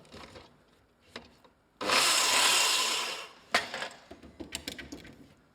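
A hand saw cuts through wood, with one long, loud rasping stroke followed by shorter, choppier scrapes and knocks as the offcut begins pinching the blade. The sound is close and has no talk over it.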